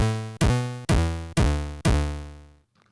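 Buzzy, unfiltered Commodore 64 chiptune synth notes: a short blip, then four sharp, bright tones that each decay before the next, followed by near silence.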